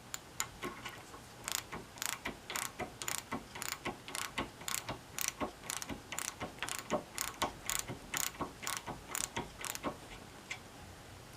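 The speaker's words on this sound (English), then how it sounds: "Let's give this ratchet a test drive. This is a 1/2-inch nylock nut." A Proto 4749 quarter-inch drive ratchet clicks in quick, uneven bursts as it works a nylock nut, each pawl click crisp and close, repeated about twenty-five times with no speech.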